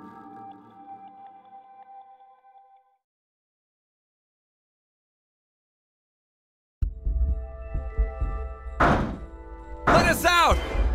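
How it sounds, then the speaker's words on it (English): Heavy banging on a locked door in the Zero Time Dilemma video game, a few loud thuds and knocks after a long silence, following a stretch of quiet game background tones. "Bang all you want, it won't open."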